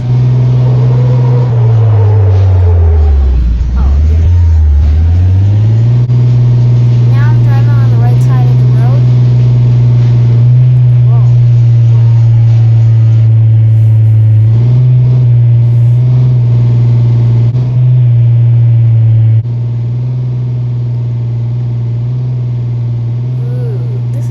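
Republic Services Autocar ACX front loader garbage truck with an Amrep body, fully loaded, driving with a steady loud low engine drone that dips and surges early on, heard from inside the cab, with occasional talk over it.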